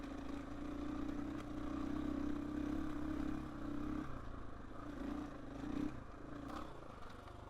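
A KTM 450 EXC-F dirt bike ridden at a mellow pace on a trail gives a steady, muffled engine drone that dips and surges slightly, heard from the rider's position alongside rattles and wind.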